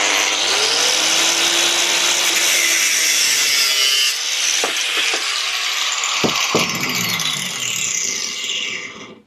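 An angle grinder cutting metal at a DIY event, a loud continuous high-pitched whine and grind lasting most of the clip, easing with a few sharp clacks before stopping abruptly.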